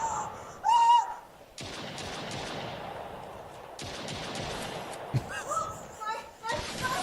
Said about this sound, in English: She's just shooting in the air.